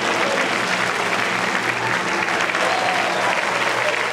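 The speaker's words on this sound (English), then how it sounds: "Some people clap there." Steady, dense applause from a conference or banquet audience at a motivational speaking event, loud and continuous throughout without pause.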